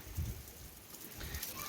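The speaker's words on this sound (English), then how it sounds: "now it's raining like crazy" Heavy rain falls steadily outdoors, a soft, continuous hiss of drops on surfaces, fairly faint and distant, with no speech over it.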